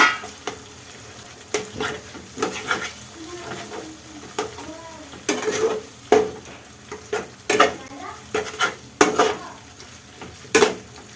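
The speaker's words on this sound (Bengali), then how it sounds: "আর অর্ধেক পুরগুলো তুলে রেখেছিলাম সেগুলো এর মধ্যে দিয়ে ভালো করে ফ্রাই করে নেব" Paneer and papad filling fries in a pan as a spatula scrapes and knocks against the metal in repeated, uneven strokes over a soft, constant sizzle.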